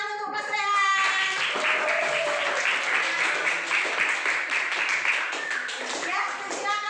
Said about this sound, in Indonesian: beri tepuk tangan untuk Mas Rehan